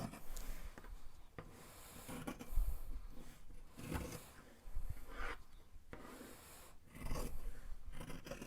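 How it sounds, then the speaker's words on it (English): Scissors snip through the selvage edge of fabric in a series of soft, close rubbing cuts and rasps, moderately faint and steady. "We'll cut the selvage off."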